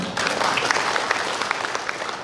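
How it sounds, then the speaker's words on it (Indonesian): An audience at a regional working meeting of West Java security service companies breaks into loud, sustained clapping that starts abruptly and continues as a dense patter throughout. "Boleh tepuk tangan dong"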